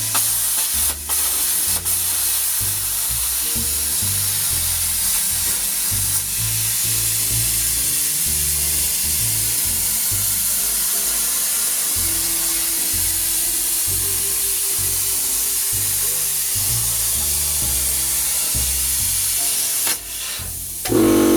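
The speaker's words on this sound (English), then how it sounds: "we're ready to cut with a plasma cutter" A plasma cutter slices through a metal sheet with a loud, continuous roaring hiss over a low rumble that holds for about twenty seconds, then cuts off with a brief final burst; no voices.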